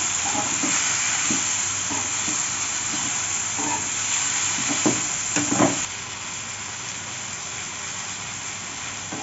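Brinjal and double beans sauté in a pan, a steady hiss and sizzle with scattered spatula scrapes and clinks in the middle before the sound settles quieter. No one speaks.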